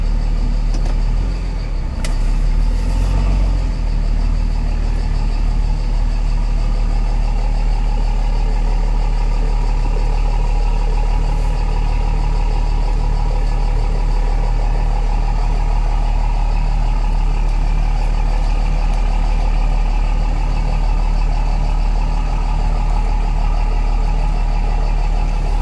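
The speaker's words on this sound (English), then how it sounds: "So you want to see what it's like to have to back my trailer in here?" A Cummins diesel-swapped Ford truck idles and creeps steadily while backing a trailer into a driveway, a loud, continuous low engine rumble close by with a brief knock near the start.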